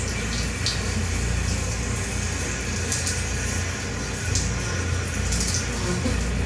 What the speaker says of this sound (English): like the sounds of dripping